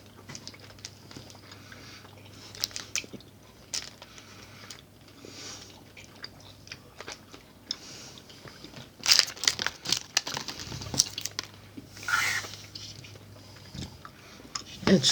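Crunchy Colombian snack chewed close to the mouth, with irregular crisp bites and crinkly crunches, quiet at first and growing louder and busier toward the end.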